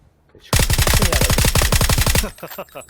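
Rapid automatic gunfire in PUBG, a loud close burst of steady repeated shots lasting about two seconds, followed by a short fading tail.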